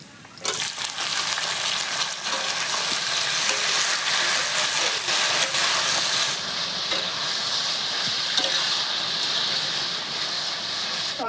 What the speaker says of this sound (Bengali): পেঁয়াজ আদা রসুন খুব ভালো ভাজা ভাজা হয়ে গেছে। এরপরে আমি এখন দিয়ে দিচ্ছি টমেটো।